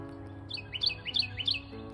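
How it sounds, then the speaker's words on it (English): A bird sings a quick series of four or five bright, repeated chirping notes in a garden, moderately near, over a low steady background hum. "Could hear the birds singing"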